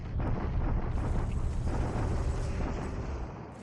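Artillery bombardment in a Pacific-theater alternate-history wargame sounds as a loud, continuous rumbling roar of explosions, thick with deep booms, fading slightly toward the end. No one speaks.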